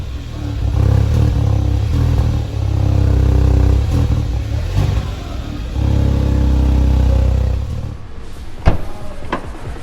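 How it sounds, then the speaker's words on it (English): A Hyundai i20 N-Line engine rumbles and revs through the exhaust, rising and settling twice before dropping off, with a couple of sharp clicks near the end. "Take a listen from the exhaust note of the i20 N-Line, which uses the same powertrain."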